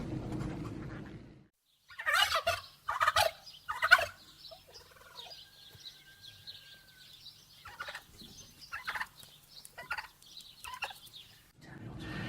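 Turkeys gobbling in bursts, rapid warbling calls repeating several times at moderate distance over quiet surroundings, with a brief higher whistle-like note in between.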